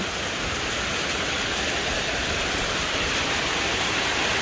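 Dense, constant roar of heavy rain pouring down, a broad unbroken hiss with no pauses and no voices.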